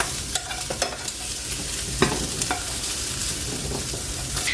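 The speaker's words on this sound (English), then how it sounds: "So I'm going to take out the pork and then I'm going to start frying up the veggies." Onions and garlic frying in a pan with coconut oil for keto cauliflower pork fried rice, a steady close sizzle broken by occasional scraping stirs and clacks of a utensil, with no talking.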